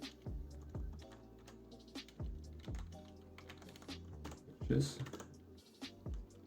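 Rapid, close keystrokes on a computer keyboard as code is typed, coming in uneven bursts and pauses with one louder clack cluster near the end.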